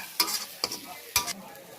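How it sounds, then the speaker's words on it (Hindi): Spices with kasuri methi and asafoetida sizzle faintly in a pan while a spoon stirs them in three quick scraping strokes over a low frying hiss. "अब हम चलाते हैं, मिक्स करते हैं मसाले को।"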